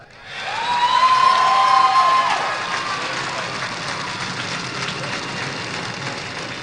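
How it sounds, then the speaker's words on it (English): Massive outdoor crowd in Washington cheering and applauding President Barack Obama's inaugural speech, a loud dense roar with whistles that swells early and then holds as steady, distant clapping and shouting. "earned him a booming applause from the millions of Americans in Washington"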